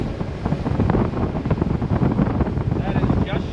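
A 1999 Formula 280 Sun Sport boat with a freshly swapped engine runs steadily at about 2200 RPM, a continuous low rumble mixed with wind buffeting and water wash, with a voice talking over it.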